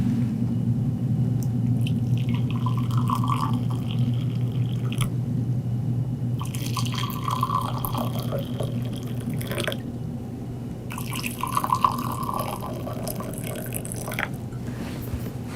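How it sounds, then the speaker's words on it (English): Hot water poured into three glasses in turn, three separate runs of splashing, trickling liquid over a steady low hum, with short pauses between each pour. "First, pour water in each of the 3 glasses."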